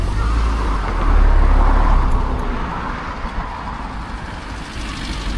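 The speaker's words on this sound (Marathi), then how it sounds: "दुसरी गाडी पण आलेली आहे" Road vehicle arriving nearby, a low rumbling engine and tyre noise swelling then easing as it draws up and settles, moderately loud with outdoor traffic ambience and no speech.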